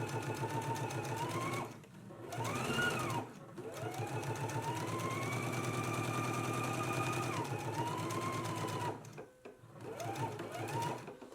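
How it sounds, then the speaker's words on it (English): A home sewing machine runs steadily, understitching close to the seam through a dress facing and seam allowance, with brief pauses where the motor stops and restarts. "Let's go ahead and stitch really close to this seam."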